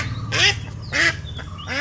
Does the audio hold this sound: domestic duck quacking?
yes